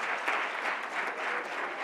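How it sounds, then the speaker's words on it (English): Steady applause from an audience at a business meeting, a continuous dense patter of clapping hands holding even and moderately loud for the whole stretch with no voices over it. "Give him a round of applause."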